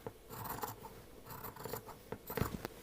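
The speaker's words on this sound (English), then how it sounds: "a couple of millimeters away from that stitching line is where you want to just trim your seam allowance" Scissors snip through the fabric seam allowance of a dress close to the stitching line, in several bursts of short crisp cuts with brief pauses between them, close and moderately quiet, with no talking.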